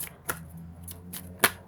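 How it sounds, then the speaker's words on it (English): Tarot cards are shuffled by hand in a few quiet, sharp flicks and taps spaced irregularly over a soft background hum, with no voices. "then I'm going to shuffle a card out here for you"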